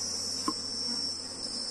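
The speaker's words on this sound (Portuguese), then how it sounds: "Observem, ó, que tem muita abelha nesse núcleo." Honey bees from a populous Apis hive box drone in a steady, continuous buzz close by at the opened hive, with one brief louder tap.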